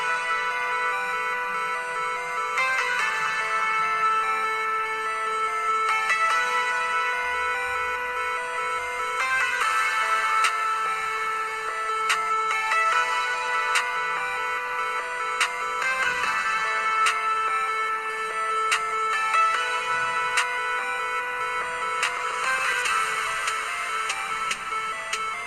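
A PUBG-themed ringtone plays alone as a steady electronic melody with repeating tonal phrases and a constant beat, loud and continuous with no talking.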